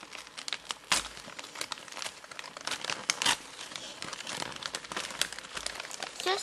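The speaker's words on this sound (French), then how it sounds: "Malheureusement, je suis obligée de déchirer le papier." Wrapping paper being torn and crumpled by hand, close and quiet, with irregular crinkling bursts and sharp rips continuing throughout.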